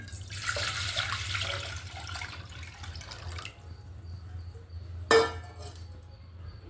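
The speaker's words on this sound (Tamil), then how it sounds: "ஒரு கப்பு அரிசி மாவுக்கு நாலு கப்பு தண்ணி" Water poured into rice flour at four cups of water to one cup of flour, a steady close splashing pour lasting about three seconds, followed by a single sharp knock, no talking.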